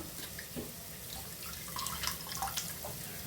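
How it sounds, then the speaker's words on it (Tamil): Tamarind is squeezed and dissolved by hand in a bowl of water for a dry mango curry, giving faint, close sloshing and dripping with gentle splashes in an uneven rhythm. "புளியை நல்லா கரைச்சி எடுத்துக்குவோம்."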